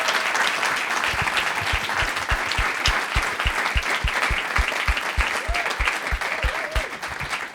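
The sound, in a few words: audience applause for panelists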